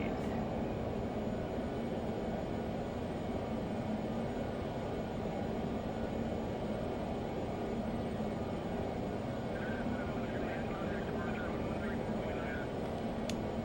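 Steady jet engine roar from a Learjet in a flight simulator game, climbing out after takeoff from Long Beach, a continuous broadband drone that holds level throughout with no voices.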